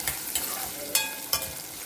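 Green chillies and onions fry with mustard and fenugreek seeds in hot oil, a steady sizzle broken by a few sharp scraping stirs of a spatula, close and alone.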